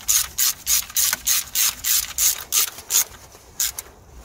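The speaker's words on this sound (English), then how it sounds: "So just gonna secure the bolts on the EGR valve." Ratchet wrench with a TX30 Torx bit tightening bolts on a BMW EGR valve: rapid rhythmic bursts of clicking pawl, about twelve strokes, close and loud with brief pauses, no talking.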